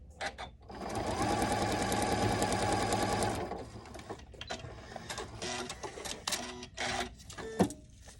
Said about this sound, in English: I'm going to sew right on the line in between the G1, G2, and G3.